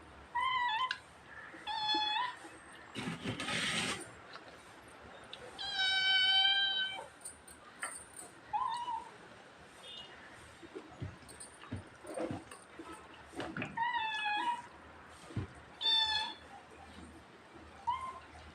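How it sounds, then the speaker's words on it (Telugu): A cat meows repeatedly in a home, several clear drawn-out calls spaced through a quiet background with soft thumps and rustles between them. "పిల్లి"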